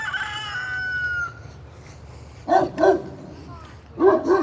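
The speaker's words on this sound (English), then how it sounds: "Because George is barking too much." A dog barks in a backyard garden where chickens are kept, giving a few sharp, fairly close barks in two short bursts. A rooster-like crowing tone comes before them, over a low steady background hum.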